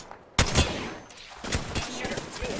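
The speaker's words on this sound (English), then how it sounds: "Getting shot at." Apex Legends gunfire: a sharp loud shot, then a scattered volley of fainter cracks, with faint talk in the background.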